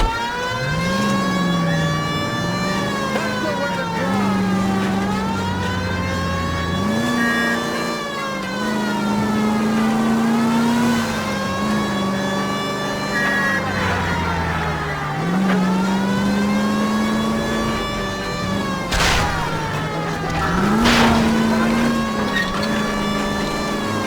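A siren wails in rising and falling sweeps over a car engine revving and accelerating during a chase in the L.A. Noire video game, loud and continuous, with short sharp bursts near the end.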